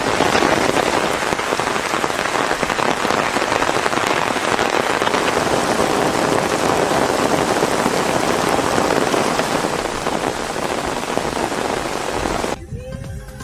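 Heavy rain pours steadily in Tiruvarur, Tamil Nadu, a dense, continuous hiss of drops that stays loud throughout and dips slightly right at the end.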